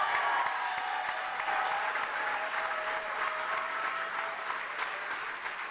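An audience at a WAC press conference applauds steadily and evenly, a dense wash of clapping that holds its level throughout, with no voices above it.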